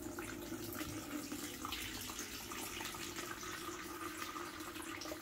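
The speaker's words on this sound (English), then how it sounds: "I will rinse it off with some water with fertilizer." Water mixed with fertilizer runs steadily into a plant pot full of growing media, a continuous close splashing rush at low volume with no other sounds.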